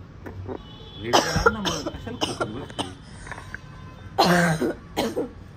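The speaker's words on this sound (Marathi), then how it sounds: "मला शिंका येत आहेत, खोकला येतोय" Several harsh coughs in short bursts, close to the mic, with quieter throat sounds and rustling between them.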